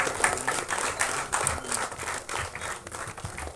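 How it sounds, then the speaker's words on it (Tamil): Crowd clapping at a Tamil film directors' club album song screening event, a lively, uneven round of applause from many hands that carries on for several seconds without talk. "ஒரு பெரிய கைத்தட்டல் கொடுத்துடலாம்."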